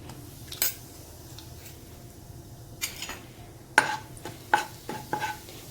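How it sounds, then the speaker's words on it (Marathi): Spatula stirring ground spices in a hot pan for palak paneer, with a faint sizzle under a few close, sharp scrapes and clinks of utensil against metal. "हे हलवून घेणार आहे हे हे मसाले गरम झाल्यानंतर"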